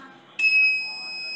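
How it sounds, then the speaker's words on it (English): A high electronic tone cuts in abruptly and holds steady, a continuous alarm beep from a crane swing-detection system over faint background noise. "Here is a beeping continuously because the swing action is detected by this system."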